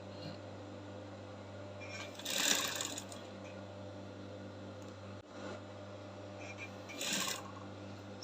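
A sewing machine stitches along the seam line of a shift gown, a steady low mechanical hum running throughout with two louder bursts of faster stitching, close by.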